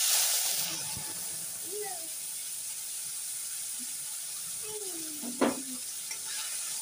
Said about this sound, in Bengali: মশলাটা একটু কষা হোক, মশলাটা একটু কষে নিয়ে